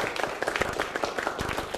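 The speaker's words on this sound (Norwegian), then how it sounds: "vi gir Kvitsøy en skikkelig applaus" A short burst of dense, crowded applause for Kvitsøy at a 1996 live televised fundraising broadcast, bright clapping throughout with no talk.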